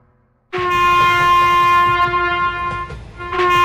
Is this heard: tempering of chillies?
no